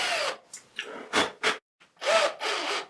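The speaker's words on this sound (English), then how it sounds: "And I screw in this block," A power screwdriver drives a screw into a wooden block in several short bursts of whirring and grinding, separated by brief pauses, close and alone.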